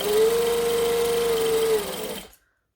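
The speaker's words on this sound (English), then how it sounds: "Then I'm going to grab the second one, fold it down, and we're going to chain stitch because it's quicker" A sewing machine runs a steady, fast chain stitch along a folded bag seam for about two seconds, a smooth mechanical whir that winds down and stops, close and alone.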